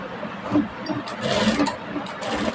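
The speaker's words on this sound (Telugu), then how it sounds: "డాట్ వరకు మనము స్టిచ్ వేసుకుందాం" Sewing machine stitching the collar neck of a garment in a boutique-style tailoring lesson, a steady motor whir running continuously at moderate, close level with no pauses.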